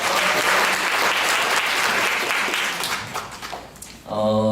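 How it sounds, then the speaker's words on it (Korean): Audience applauding for two people at a Korean lecture session, a dense wash of clapping that runs loud for about four seconds before fading, then a voice starts talking. "두 분 위해서 박수 한번 부탁드릴게요"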